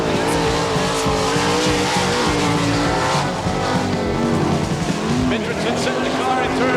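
A sprint car at the All Star Circuit of Champions dirt oval in Eagle, Nebraska runs a loud, continuous lap, its engine rising and falling through the turns under a public-address announcer's commentary.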